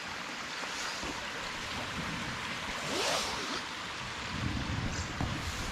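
A brook runs beside a country road, giving a quiet, steady wash of flowing water with soft swells and no talking.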